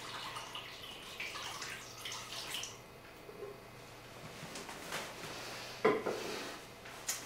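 Water pours into a vessel while mead is being made, a soft steady splashing and trickling with a few clinks and drips, fairly quiet and without speech.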